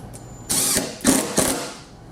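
Euro screws being driven to mount a sliding door rail, heard as a few short bursts of ratcheting, mechanical whirring close by, separated by brief pauses.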